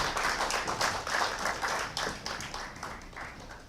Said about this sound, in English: let's have a round of applause for the Hampton Bays High School Select Choir